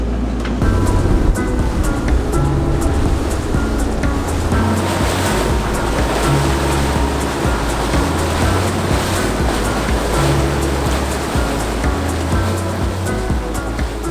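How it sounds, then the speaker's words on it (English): A boat crosses open water toward a hotel in Vietnam, with loud, constant rushing water and wind noise and a low engine drone running steadily throughout. "we're taking this boat over there, and we are in Vietnam."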